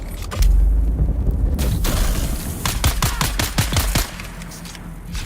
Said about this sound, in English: That's a zero gravity grenade